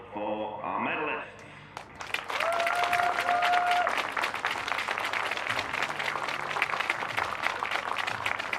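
A voice speaks briefly, then a warm round of applause rises from the spectators at an archery tournament final medal ceremony, sustained and fairly loud crowd clapping that continues to the end.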